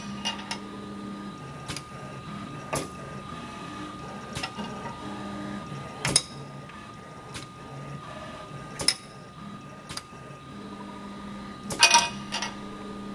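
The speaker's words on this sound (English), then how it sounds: "In this setup, we have a pneumatic parallel gripper that is controlled by a pneumatic valve." SCARA industrial robot with a pneumatic parallel gripper working through its moves, steady motor whir broken by sharp clicks and hissing pneumatic bursts at irregular intervals, close and moderately loud.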